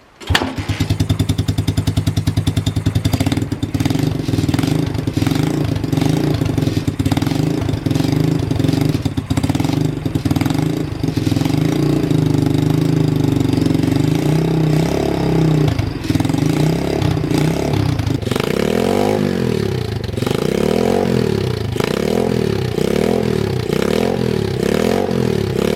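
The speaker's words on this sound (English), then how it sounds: "She revs nicely, so the carb's actually pretty tuned well." A carburetted motorbike engine runs loud and close, idling with a steady chug, then revs up and down in repeated rising and falling surges.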